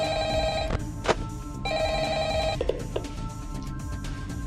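Phone ringing in the video game Five Nights at Frickbear's 3, two electronic bell-like rings in quick succession, separated by brief clicks and thumps, loud and clear with no talk.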